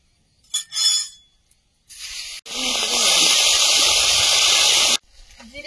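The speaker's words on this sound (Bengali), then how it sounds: "এবার চুনো মাছগুলো ভেজে নেবো" Small fish fry in hot oil after a brief clink, breaking into a loud, steady, close hiss and sizzle that holds for several seconds before cutting off.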